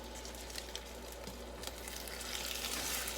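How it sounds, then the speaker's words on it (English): Butter and a teaspoon of vanilla being stirred into a hot peanut brittle mixture, giving a steady, soft sizzling and scraping texture that rises slightly toward the end, close and alone without talk. "stirring the butter and the vanilla in"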